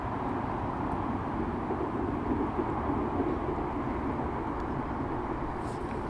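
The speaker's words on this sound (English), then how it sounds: "So, yeah, it's a train. Isn't it? You can hear the train." A distant passing train, a continuous low, even rumble filling the whole clip at a soft level, steady and unbroken, with no talking.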